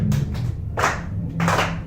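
An improv show audience gives a few slow, loud, widely spaced bursts of clapping over a low background hum to welcome the performers.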